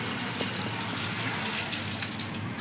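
Water washes over a wet curtain at home, a steady loud splashing gush like a running stream hitting fabric, continuous and close with no talk.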